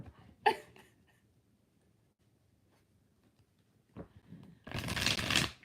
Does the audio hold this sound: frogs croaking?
no